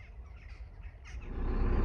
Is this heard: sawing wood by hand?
no